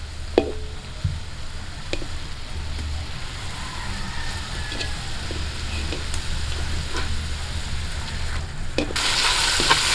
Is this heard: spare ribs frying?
yes